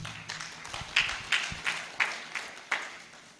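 A small group at the Uganda Diaspora Convention claps in slow, roughly regular beats, about half a dozen distinct claps over a faint background murmur.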